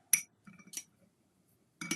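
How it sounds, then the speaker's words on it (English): A few light clinks of a metal palette knife against a glass as it is rinsed, separated by brief pauses, close and quiet with no talking. "I'm gonna rinse off my palette knife."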